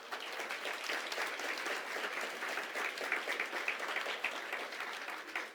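Audience applause at a community awards breakfast, steady dense clapping from a crowded room sustained throughout at an even level.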